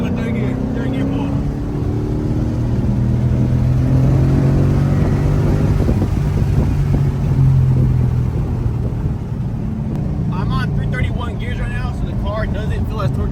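A loud Ford Mustang GT engine with a Cobra Jet intake manifold pulls hard in third gear, rising in pitch as it accelerates, with a steady rumble throughout and a voice speaking near the end.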